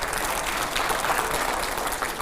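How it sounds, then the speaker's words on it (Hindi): A studio audience at a televised political debate applauds, dense, steady clapping filling the whole short stretch at moderate loudness. "आइए अब अगला सवाल, जोरदार तालियां हो।"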